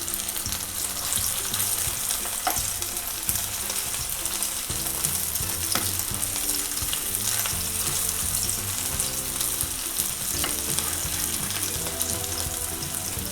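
Baby potatoes fry crisp in a pan with a continuous, close sizzle of hot oil, broken by occasional clacks and scrapes as they are turned over.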